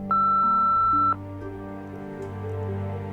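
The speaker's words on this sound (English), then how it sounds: "Anyone else is welcome to leave a message after the beep." An answering machine gives a single steady electronic beep in the Nancy Drew: Midnight in Salem video game, followed by a low sustained tone and faint background hum.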